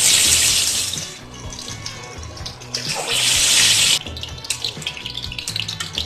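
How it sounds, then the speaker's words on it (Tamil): Marinated chicken pieces go into hot oil to fry, sending up loud hissing bursts of sizzle that rise, ease off, then surge again close by, with soft background music. "இப்போ இந்த மேரினேஷனை நல்லா ஒரு மிக்ஸ் பண்ணிட்டு இப்போ நம்ம இதை எண்ணெயில போட்டுருவோம்"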